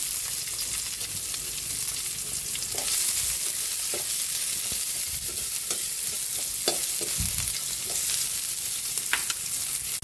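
Onion sautés in a hot pan for ginisang monggo, a steady loud sizzle broken by scraping stirs of the utensil against the pan.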